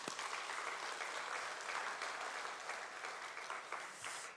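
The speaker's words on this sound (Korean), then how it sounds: "우리 이 자리에 계신 부모님들께 우리 감사의 박수 한번 올려드립니다." A church congregation applauds in thanks to the parents present, a steady broadband wash of many hands clapping together at moderate volume throughout, with no talk over it.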